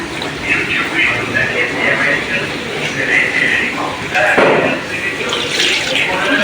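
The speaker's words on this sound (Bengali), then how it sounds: "হালকা পানি দেবো" A little water splashes into beef being braised in mustard oil for a dark kala bhuna, a brief pour rising partway through under steady nearby talk.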